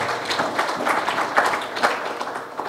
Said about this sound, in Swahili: Makofi kwa kampuni ya Jairut tafadhali